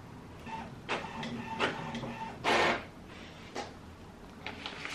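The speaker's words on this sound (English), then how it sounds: "I'm going to start printing off the images now." A home printer printing images, its whirring feed mechanism running steadily with several louder mechanical clunks and one sharp burst of paper movement, close and clear with no talk.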